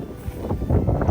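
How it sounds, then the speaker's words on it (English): Strong wind gusts across flat open fields beside a broken-down vehicle, a rough low buffeting roar hitting the microphone in uneven bursts, with no talk. "It's pretty windy out here."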